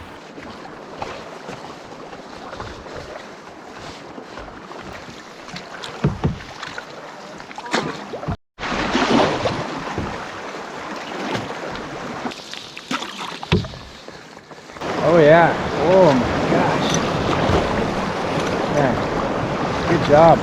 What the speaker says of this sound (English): We got big waves coming from the left and then other big waves coming now from the right.